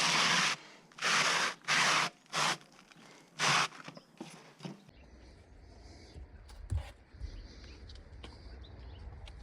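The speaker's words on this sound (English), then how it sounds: "I take a leftover piece of asphalt and press down on it while sliding it around the roof." A leftover piece of asphalt roofing is pressed down and slid around a shed roof, making several loud, coarse scraping strokes in quick bursts, followed by quieter scuffs and light knocks.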